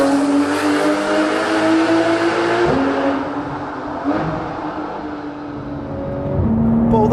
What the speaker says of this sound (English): So anyone could jump in this GT3 and drive pretty quick.